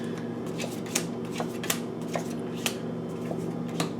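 A deck of oracle cards is shuffled close by in quiet, evenly spaced riffles and flicks, each a crisp snap over a low steady hum.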